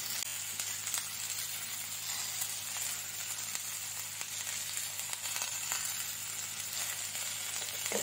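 Salted okra fries in a pan, a soft, continuous sizzle and crackle at low volume with occasional faint stirring ticks, no talking.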